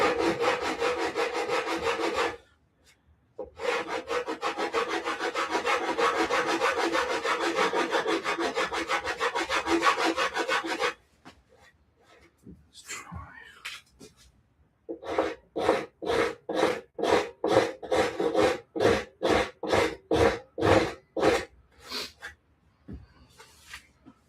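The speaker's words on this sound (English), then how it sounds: "Right, back to the rasp." A rasp files a wooden halberd shaft, first in long continuous scraping passes, then after a pause in a fast, even series of close, loud back-and-forth strokes, with no talk.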